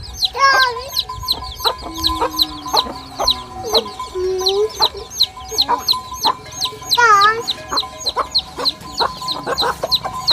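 Chickens clucking in a backyard coop on a Thai homestead, with repeated close, loud clucks and squawks in a busy irregular rhythm; a faint high whistle-like tone runs under them.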